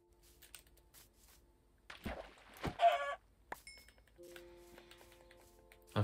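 Chicken clucking in the Minecraft video game: a few short bursts of clucks midway through, set against quiet game ambience with soft background tones and a brief sharp hit.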